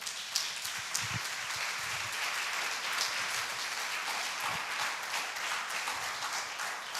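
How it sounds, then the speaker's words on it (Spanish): A church congregation applauds during a sermon, giving a dense, crackling wash of many hands clapping at once, moderately loud and sustained throughout without speech. "Denle un aplauso al Señor."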